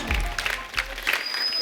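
A studio audience on a Hindi comedy talk show applauds as Urvashi Rautela is welcomed, a moderate burst of clapping with faint crowd noise.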